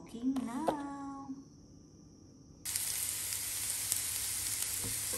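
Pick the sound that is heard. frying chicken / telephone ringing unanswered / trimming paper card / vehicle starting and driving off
frying chicken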